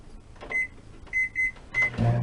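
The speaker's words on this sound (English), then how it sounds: "So once you put this in the microwave here, you want to set this for 3 minutes" A microwave oven set to cook green bean casserole gives a few short, bright keypad beeps, then its low running hum starts up close by, with no one talking.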